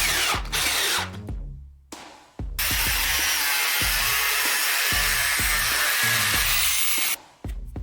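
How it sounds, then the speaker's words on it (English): A power tool, apparently a saw or drill, cuts lengthwise along a plastic pipe, stopping short of the end. It whines loudly and steadily with brief pauses and repeated low knocks underneath, alone without talk. "Take a plastic pipe of the needed length and make a longitudinal cut"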